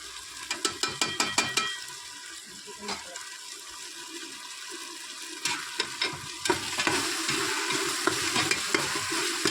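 Masala powders, chilli and coriander, stirred in a sizzling pan, with a quick run of spoon scrapes at the start, then steady frying hiss broken by occasional clinks and stirring strokes, close and without talk.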